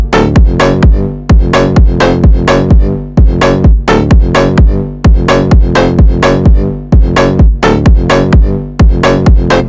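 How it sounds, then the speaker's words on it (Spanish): A synth melody played on the Faceplant synthesizer preset in FL Studio, with bright, rapidly repeating plucked notes in a steady driving rhythm, loud and continuous with no talking. "aquí ya hice una pequeña melodía con lo que viene siendo este sintetizador Faceplant"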